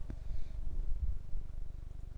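A cat purrs up close with a low, rumbling, pulsing rhythm that runs steadily throughout and has no other sound over it.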